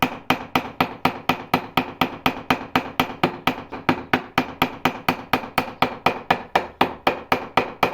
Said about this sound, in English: I'm going to try and hammer on one side a bit more, push it back the other way.